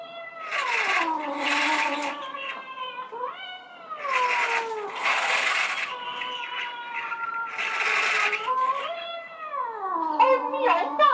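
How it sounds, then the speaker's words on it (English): Cats caterwaul in a loud, drawn-out fight within an animatronic witch show, their long wavering yowls overlapping and gliding up and down, broken by bursts of hissing noise. "Is that a cat fight?"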